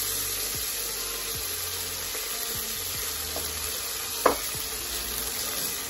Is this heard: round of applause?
no